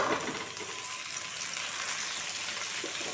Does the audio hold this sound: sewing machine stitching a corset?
no